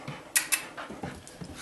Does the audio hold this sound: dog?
yes